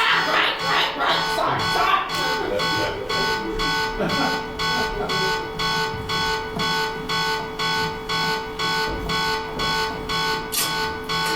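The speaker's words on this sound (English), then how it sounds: "Alarms! Sounding!" Alarms sound in a steady, rapid pulsing pattern, a loud repeating buzz about twice per second that carries on throughout, with voices talking over the first couple of seconds.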